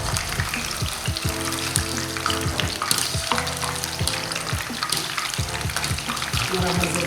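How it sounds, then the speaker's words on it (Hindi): Raw chicken pieces for chicken dabu sizzle and fry in a pan, a loud continuous crackle with steady hiss and bubbling that holds throughout, close to the pan and with no voice. "देखिए इस तरह से मैंने सारा चिकन डाल दिया।"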